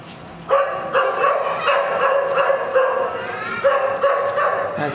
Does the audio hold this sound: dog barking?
yes